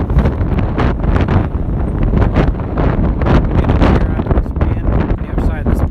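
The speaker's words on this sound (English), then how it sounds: "it's going to be windy when I hear the playback" Wind buffets a microphone outdoors on a street in downtown Decatur, loud low rumbling gusts that roar continuously with uneven surges throughout.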